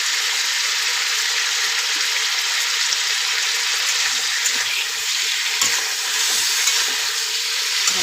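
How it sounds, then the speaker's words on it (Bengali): A tilapia fish curry with turmeric, salt and spices is stirred in a hot pan, giving a loud, continuous sizzle and hiss with faint scraping from the spoon. "ভালো করে নেড়ে,"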